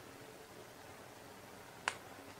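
Hardened jaggery syrup for peanut and almond chikki gives one sharp, brief snap as it is broken, close and alone against a quiet background.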